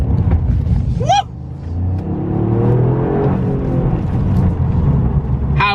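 A Toyota GR Yaris with active four-wheel drive accelerating hard, its engine note climbing in rising sweeps, close and loud, with a couple of brief high squeals.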